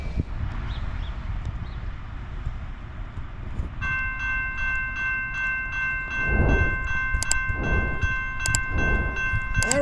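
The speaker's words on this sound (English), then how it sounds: "I think this is my 12th or 13th train today" A CSX freight train rolls past on the Lehigh Line, a long rumbling passage of railcars with rhythmic clanks and thumps near the track, joined midway by a sustained horn blast on a stormy Fourth of July.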